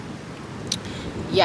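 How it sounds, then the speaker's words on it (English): Strong wind on a Puerto Rico beach rushes across the microphone as a steady broadband hiss, with a brief spoken word near the end. "I think there's just so much wind, you guys. It's so freaking windy."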